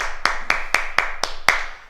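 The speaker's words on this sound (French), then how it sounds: "Et on s'applaudit, bravo." A fitness class claps in unison at an even, steady beat, six sharp, crisp hand claps spaced about a quarter second apart, with no talking.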